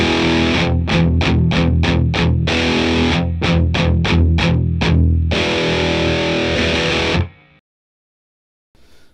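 A distorted electric guitar plays through a Mesa Boogie Dual Rectifier multi-watt head with a BOSS LM-2 limiter pedal switched off, giving loud chugging palm-muted bursts and sustained chords that cut off into silence.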